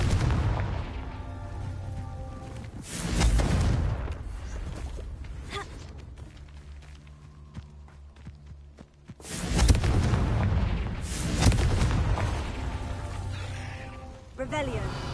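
Confringo fire spell explosions in the Hogwarts Legacy video game, two loud booming blasts several seconds apart with crackling fiery tails and softer game sounds between them, no talking.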